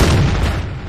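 A deep, booming blast from a tank being destroyed in the online battle game World of Tanks rumbles loud and close, with heavy low-end roar filling the brief moment.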